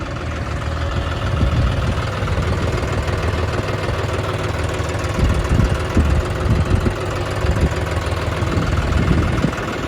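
A tractor engine idles steadily with a low, continuous rumble and faint knocking, loud and close, no voices.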